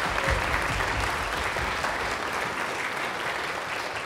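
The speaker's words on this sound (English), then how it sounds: "Can we get a round of applause for him?" Audience at a community orchestra concert breaks into dense, sustained applause, a loud continuous wash of many hands clapping that holds steady throughout without talk over it.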